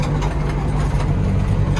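Kubota KL-41 tractor engine idling steadily at close range, a continuous low diesel throb with no voices over it.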